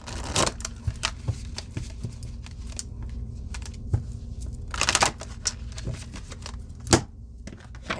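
Tarot cards being shuffled in repeated bursts of crisp riffling and flicking, close and fairly loud, with short pauses between shuffles.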